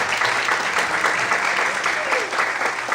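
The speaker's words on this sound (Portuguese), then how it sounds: "Será que você pode aplaudir e glorificar a Deus? Nas suas palmas." A church congregation claps steadily during a sermon, dense applause throughout with a voice audible underneath.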